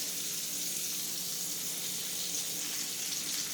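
Vegetables sweat in a pot for beef stew, giving a soft, even sizzle and hiss that stays steady and close the whole time.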